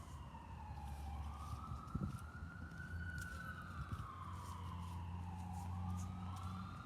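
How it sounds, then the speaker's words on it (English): An ambulance siren wails in the distance, its pitch rising and falling slowly over steady traffic rumble, with no voices. "Oh, ambulance. Yeah, they sound the same, so it's kind of hard to tell."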